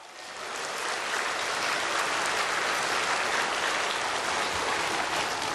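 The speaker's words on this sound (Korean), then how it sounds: "박수!" A church congregation breaks into applause during a sermon, dense crowd clapping swelling up within the first second and continuing loud and steady to the end.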